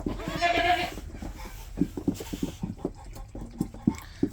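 Two-week-old kid goats bleat close by, several short cries over scattered rustling and pattering, with a louder bleat near the start.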